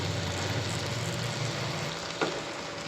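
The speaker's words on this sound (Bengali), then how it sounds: "একটু ভালোভাবে নেড়েচেড়ে একটু মিক্স করে দিতেছি" Greens and shrimp paste stirred in a frying pan, a steady close sizzle with a brief scrape of the spoon partway through, and no voices.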